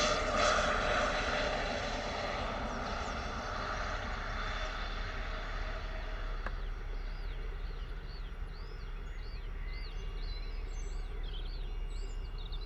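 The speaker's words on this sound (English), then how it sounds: "Lovely landing there from the gorgeous Pilatus PC24." A Pilatus PC-24 business jet lands at Bristol Airport, its engines a steady broad roar that eases into a lower rumble, with birds chirping faintly nearby.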